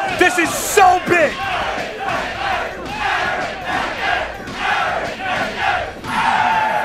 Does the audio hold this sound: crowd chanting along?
yes